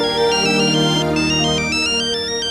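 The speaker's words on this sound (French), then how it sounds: "C'est mon alarme, pas le téléphone." A phone alarm rings with a loud, continuous melodic electronic tone made of repeating stepped notes, heard on its own.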